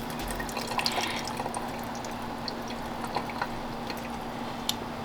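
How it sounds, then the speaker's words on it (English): Water drains from a cooking pot while sumbusas are being made, a faint, steady trickle broken by scattered small drips, with no talking. "I'm gonna drain all that water out."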